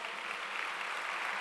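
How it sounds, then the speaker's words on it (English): Audience applause for a guest being honoured at a chartered accountants' event in Ahmedabad, a steady dense wash of clapping held at even level for a brief moment with no voices. "give him a big round of applause"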